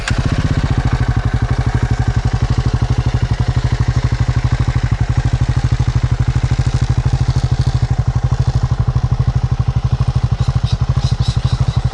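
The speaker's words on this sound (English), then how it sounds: "let's start up the engine and let's see how it starts" A Triumph Scrambler 400X motorcycle engine runs close by with a loud, steady, rapid thumping idle and clattering exhaust pulses that continue evenly throughout; no talking.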